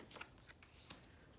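Picture cards for a phonics game are flipped over on a table, giving a few soft, quick papery flicks against quiet room background.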